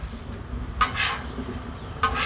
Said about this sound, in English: Yep, frying bologna.